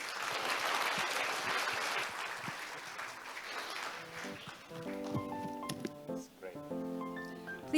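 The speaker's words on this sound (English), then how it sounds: "Please give another big round of applause for our moderator and speakers" Conference audience at the ASPA annual meeting in Jeju applauds the moderator and speakers, clapping fading over the first few seconds as tonal music and a voice take over.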